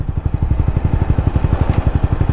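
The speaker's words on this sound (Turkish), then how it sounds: "egzoz güzel aslında benim çok bağırmıyor da" A motorcycle exhaust rumbles close by with a fast, even low pulse, loud and steady, with no voices over it.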